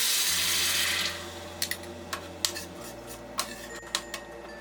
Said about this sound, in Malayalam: ആ വെള്ളം ഇതിലേക്ക് ഒഴിച്ചു കൊടുക്കാം